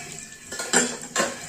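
Steel pots and vessels being washed by hand, knocking and scraping together in two or three sharp metallic clatters over a faint wet background, close by with no voices.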